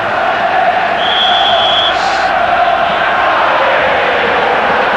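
Italian fans in a packed football stadium at a UEFA Cup final against Casino Salzburg roar in a dense, loud, continuous wash of crowd noise, with rising chants and whistles cutting through.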